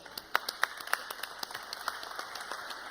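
Sparse applause at a smart-cities awards ceremony, a handful of distinct, fairly faint claps in an uneven rhythm over a quiet hall tone, fading toward the end.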